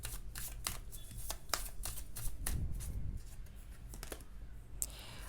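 Tarot cards are shuffled, riffled and flicked close by in quick, soft, papery bursts during a reading, with light taps as cards are drawn and laid down.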